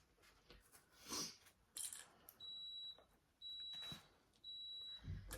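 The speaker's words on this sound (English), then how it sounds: "It's just my iron beeping" A clothes iron beeps in three long, steady electronic tones evenly spaced, each lasting about half a second, moderately close and mixed with faint rustling and handling noises in a sewing workspace.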